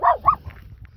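A dog gives two quick sharp barks close by at its own shadow, followed by quieter low rumbling and faint background noise at a Dartmoor wild camp.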